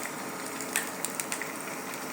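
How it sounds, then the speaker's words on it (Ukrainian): Pies fry in a pan of hot oil, giving a steady bubbling sizzle with a few sharper pops and spatters, close by and with no voices. "Потихеньку сможемо наші пиріжечки"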